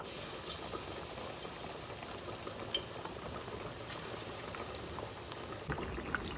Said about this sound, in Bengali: এখন আমরা এবারে আলু ভাজতেছি